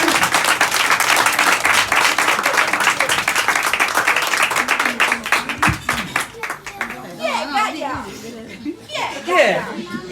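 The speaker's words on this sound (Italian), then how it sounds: "Facciamo un grande applauso, grazie" An audience breaks into loud, close applause for a young girl surprised by her father, a dense burst of clapping that thins out after several seconds as chatter and a few laughs take over.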